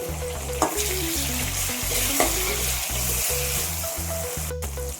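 Continuous sizzling of chopped tomatoes frying in a pan for a Chettinad crab gravy, with a spoon stirring and scraping now and then, close and steady over soft background music.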